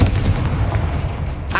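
Confringo blasting spell in Hogwarts Legacy: a heavy, booming explosion with low rumble filling the moment, ending with a brighter burst of crackle.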